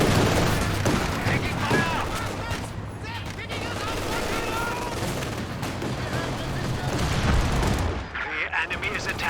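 LMG Grenadiers fire in the real-time strategy game Company of Heroes 2, producing dense, continuous battlefield gunfire with overlapping bursts and booms that stay loud throughout.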